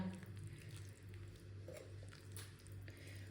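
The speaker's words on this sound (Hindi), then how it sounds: "ऐसे मिक्स करते जाना और पानी थोड़ा थोड़ा करके डाल लेना।" Dough being mixed by hand while water is added little by little, giving soft, wet squishing and patting sounds close up, quiet and continuous.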